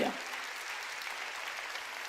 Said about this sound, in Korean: 박수로 하나님께 영광을 돌리라.